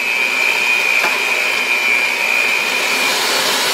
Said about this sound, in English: So I've increased my mixer to number 4, so I'm getting a little bit more air incorporated into the mix.